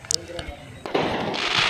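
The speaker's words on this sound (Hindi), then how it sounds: "यहाँ पे इतने अच्छे अच्छे बड़े बड़े पटाखे फूट रहे थे" Large firecrackers bursting outdoors on a street during Choti Diwali celebrations, with a sharp onset followed by sustained crackling noise, and a voice talking underneath.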